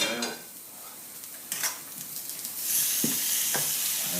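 Beef with its juices sizzles steadily in a hot pan while being stirred, with several close scrapes and clinks of a utensil against the pan standing out over a constant frying hiss.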